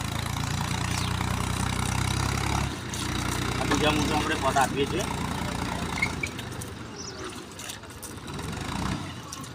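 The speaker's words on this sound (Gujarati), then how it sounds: "બાજુમાં ટ્રેક્ટર પણ ચાલી રહ્યું છે." A tractor pulling a rotavator through a nearby field before wheat sowing, a steady mid-low engine drone running throughout beneath someone talking.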